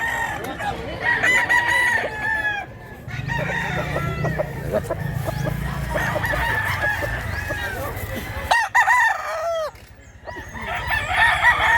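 A young stag rooster crows repeatedly and loudly nearby, with clucking from other fowl and someone talking in between.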